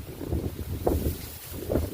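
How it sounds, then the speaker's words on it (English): Wind blows outdoors in a wooded area, buffeting the microphone with a steady low rush that swells in a few gusts. "It's windy out here today."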